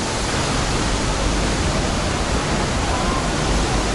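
Rushing water of a waterfall near Ubud, Bali, a steady, dense roar filling the whole clip at close range with no pauses and no voices.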